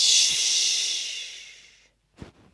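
A long, airy exhale through the mouth during a calming breathing exercise, hissing and gradually fading, followed after a short pause by a brief sharp inhale through the nose.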